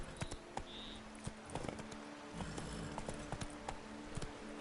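Horse hooves galloping in the video game The Witcher 3, a steady run of close clip-clop beats over a continuous background of game ambience and music.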